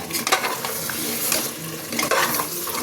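Spices with green and red chillies sizzle and fry in a pan while being stirred, with scraping and clinking of the utensil throughout, close and steady.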